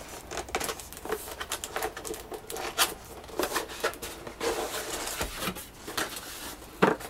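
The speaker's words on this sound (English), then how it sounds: "So we'll go ahead and unbox the keyboard." Packaging for a WASD mechanical keyboard is opened up close, giving quiet, irregular crinkles, rustles and light taps, with scattered sharper clicks and no speech.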